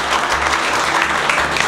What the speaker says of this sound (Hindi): और यहाँ पर हमारे दीपक सर के लिए जोरदार ताली बजाइए।